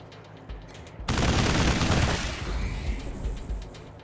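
Automatic machine gun fire in the post-apocalyptic video game Wasteland 3, a dense loud burst erupting after a brief thud and rattling on for about two seconds before trailing into softer combat noise.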